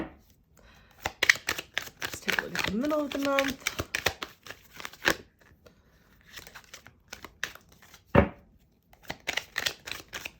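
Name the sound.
shuffling tarot cards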